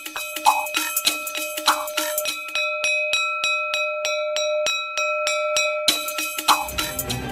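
A school bell in Nepal struck repeatedly in a steady, rapid rhythm, its bright ringing tone sustaining between strikes, loud and close, with a few louder hits mixed in.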